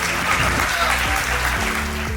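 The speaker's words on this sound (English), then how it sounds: "let's welcome our distinguished guest of honor, Honorable Mr. Baey Yam Keng, with a round of applause" An audience gives a lecture-series guest of honor a welcoming round of applause, loud, continuous clapping with a faint tonal hum running beneath it.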